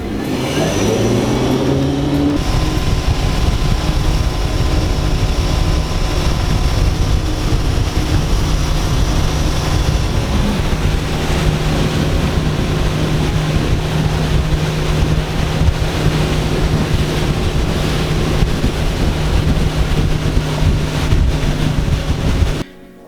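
A Centurion or Supreme wakesurf boat's engine drones steadily at close range as the hull runs through water, with wind buffeting the microphone throughout.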